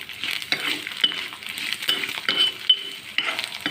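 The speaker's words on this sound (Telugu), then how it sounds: "తాలింపు వేగిపోయిందండి" Tempering with asafoetida sizzling in a pan while being stirred, continuous close crackle and hiss with rhythmic scraping strokes and faint clinks of a utensil.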